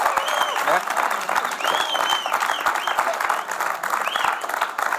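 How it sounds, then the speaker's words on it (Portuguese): A television studio audience on a late-night show breaks into sustained applause, full and steady throughout, with a few whoops and cheering voices rising above the clapping. "Uma salva palmas"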